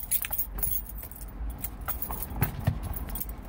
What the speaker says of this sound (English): I'm gonna put the key inside